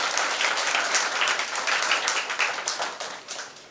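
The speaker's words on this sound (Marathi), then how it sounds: "टाळ्या वाजवून त्यांचं या ठिकाणी" Sustained crowd applause welcomes a guest at a Bharatiya Bauddha Mahasabha Panvel taluka gathering, dense, steady clapping filling the hall with a slight ebb near the end.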